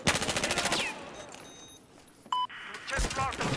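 Gunfire from a team match on Lancang Dam: a rapid automatic burst at the start, then a quieter stretch with a brief electronic tone, and another burst near the end, with players talking over it.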